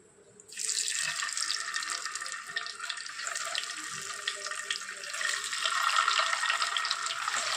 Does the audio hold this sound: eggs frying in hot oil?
yes